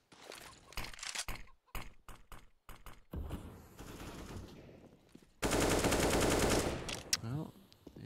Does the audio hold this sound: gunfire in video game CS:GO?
yes